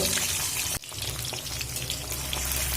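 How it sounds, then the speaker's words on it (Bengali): Eggs coated in salt and turmeric frying in hot oil, a steady close sizzle with a brief dip partway through before the crackle resumes. "দেখুন তেল গরম হয়ে গেছে এবার যে ডিম আমি লবণ হলুদ মাখিয়ে রেখেছি ওই ডিমগুলো ভেজে নেব"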